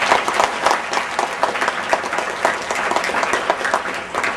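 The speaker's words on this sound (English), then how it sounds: "let's give him a round of applause for a job well done" Audience applause at a regional company event in Los Angeles, a fairly dense crowd clapping with a slightly uneven, pulsing texture, sustained and close throughout.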